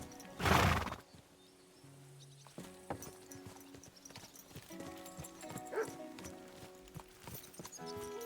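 A loud horse whinny rings out at the start in Kingdom Come: Deliverance II, followed by scattered hoof clops and assorted game sound effects in the background.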